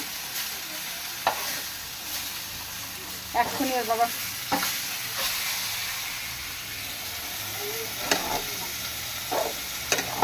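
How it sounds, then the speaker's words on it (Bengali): Fish frying in a wok, a steady sizzle with stirring scrapes and occasional louder crackles, overheating and starting to burn; a few brief spoken words break in. "মাছটা ভাঙড় মাছটা পুড়ে যাচ্ছে, এটাকে বেশি ভাজা হয়ে গেছে"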